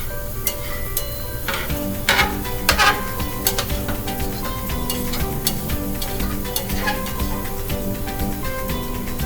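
Swedish pancake batter cooking in a pan, a steady sizzle and frying hiss running throughout with a few light clinks of a utensil against the pan near the start.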